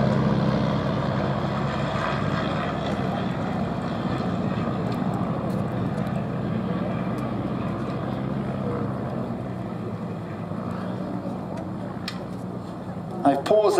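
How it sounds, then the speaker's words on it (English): Nine Tiger Moth biplanes, each with a 130 horsepower de Havilland Gipsy Major engine, drone together at an air festival as a steady, dense engine roar that runs throughout, with a brief louder burst at the end. "let you listen to the glorious sound of the 9 de Havilland Gypsy Major engines, each 130 horsepower"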